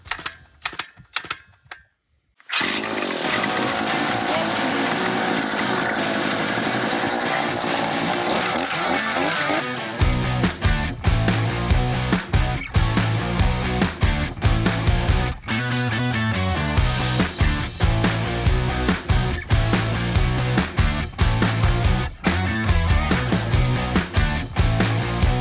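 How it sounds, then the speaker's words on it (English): A power auger runs loudly while 4x6 wooden posts are worked on for a garage shelter door, starting with a sustained grinding roar and then breaking into a rapid, rattling chatter. "our old friend the auger is coming back."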